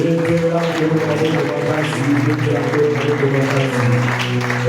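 A church congregation applauding the Lord during a sermon, sustained loud clapping and crowd noise over a droning tonal background throughout, close and dense.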